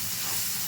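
Spice paste sizzles and hisses in a pan with softened tomato while it is sautéed for a pea and potato curry, a brief, steady, close frying hiss with no talking.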